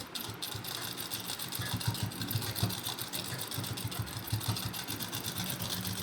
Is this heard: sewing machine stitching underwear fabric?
yes